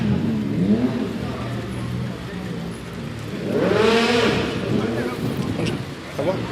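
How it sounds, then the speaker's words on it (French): A Mercedes C63 W204 at a cars-and-coffee meet in Algeria revs its engine in one rising and falling sweep, loud and close, with voices and crowd chatter around it. "On a la C63"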